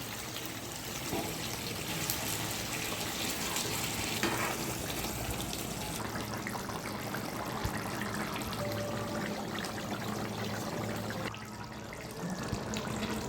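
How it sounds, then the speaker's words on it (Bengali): Hot water poured into a pan of sautéed chicken for gondhoraj chicken, a continuous watery rush mixed with sizzling that runs steadily, close by, with no voices. "ভালোভাবে কষে নিয়েছি, আমি গরম জল দিয়ে দেবো"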